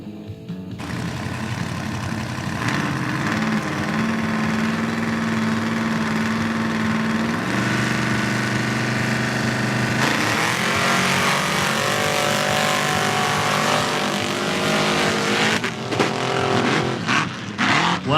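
Mud drag race engines, a carbureted Ford against a blown Chevy, idling loud and close with a steady low rumble, then revving and building in pitch before roaring off, crowd noise faint underneath.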